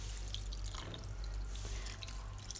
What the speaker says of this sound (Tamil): ஒரு டம்ளர் தண்ணி வந்து அதுலேயும் கொஞ்சம் சேர்த்துக்கணும்